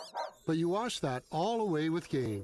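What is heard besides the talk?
dog barking in a radio ad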